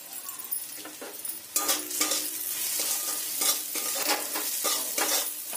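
Spiced masala with Kashmiri chili powder, coriander powder, salt and kasuri methi being stirred and sautéed in a pan for restaurant-style egg tadka: steady close sizzling with repeated scraping strokes of a spoon and occasional light clinks.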